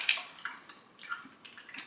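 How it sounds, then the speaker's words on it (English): Spring cocktail poured into a glass, heard as a faint, brief liquid pour in a few soft splashing bursts with no talking. "Give it a nice pour into a glass."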